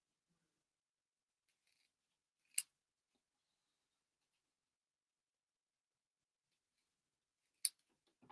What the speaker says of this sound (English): So I'm going to cut this a little bigger because it's going on the paper.